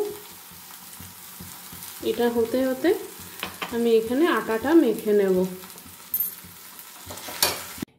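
Green peas sauté with salt and cumin powder in a wok, giving a steady sizzle and occasional stirring scrapes, while someone talks over much of it.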